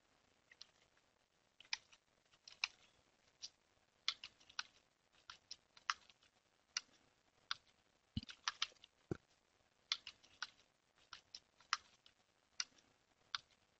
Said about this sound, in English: Now type this command and then hit enter.